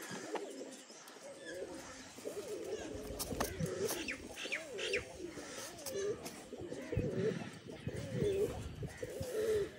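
Pigeons cooing close by in soft, repeated rolling calls, steady throughout, while people talk over them and children can be heard in the background.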